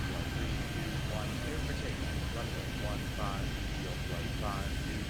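In an airport video game, a Concorde takes off as a steady, loud engine roar with a constant whine over it, while a voice talks faintly underneath.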